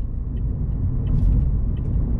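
Toyota Yaris 1.5G (2019) rolling over a badly bumped road, heard from inside the cabin as a continuous low tyre and suspension rumble with a few faint knocks, no talking.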